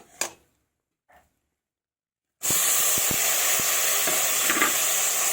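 Raw tamarind drops into melted sugar in a pan and bursts into a loud, steady sizzle close up, with a few faint clinks over the hiss after brief quiet handling.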